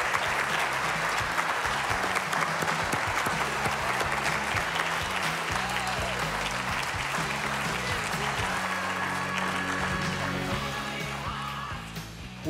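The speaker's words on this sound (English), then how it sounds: "please join me in a round of applause for Cindy McCain." A crowd claps steadily for several seconds, a dense, sustained round of applause that tapers slightly at the end.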